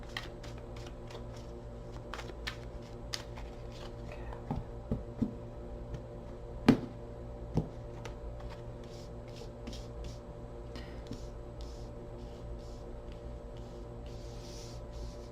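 A tarot card deck is shuffled in quiet surroundings, giving soft intermittent riffling and tapping with a few sharper clicks over a low steady hum.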